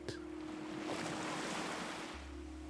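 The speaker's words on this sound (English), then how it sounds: "And the waves come in up the beach" Ocean waves wash gently up a beach in a soft continuous surf hiss, with a steady low hum running underneath and no voices.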